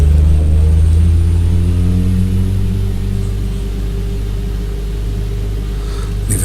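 A Kodiak aircraft engine spools up toward roughly half power, a loud steady droning whine with layered tones that dip slightly in pitch and then hold, with no voices.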